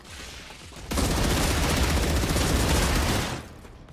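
Sustained burst of automatic gunfire in the survival game StarRupture, dense rapid shots running for about two and a half seconds after a softer lead-in, then cutting off as the weapon stops.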